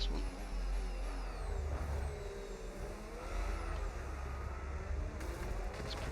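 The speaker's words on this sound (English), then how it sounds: "Let's try and really dump the throttle out of this next one" F1 car in the F1 25 racing game powering hard out of a corner, a steady loud engine drone with rising whining tones swept across the whole span, no one speaking.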